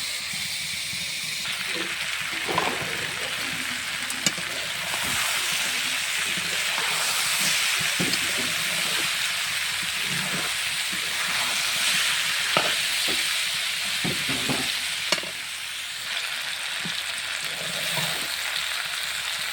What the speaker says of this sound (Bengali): ভাজবেন ঢাকা দিতে হবে না এভাবে আস্তে আস্তে ভাজা হবে